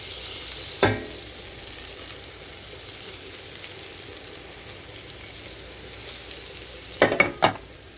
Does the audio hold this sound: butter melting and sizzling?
yes